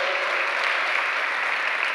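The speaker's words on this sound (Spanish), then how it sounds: "Y se le va a aplaudir al Señor, hágalo a Él" A church congregation applauds during a sermon, a dense, even wash of many hands clapping at once, steady and unbroken throughout.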